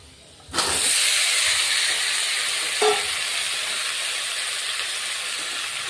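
Long-cut taro pieces drop into hot oil with fried onions in a pan, setting off a sudden loud sizzle that stays as a steady, bright hiss, with one small pop partway through.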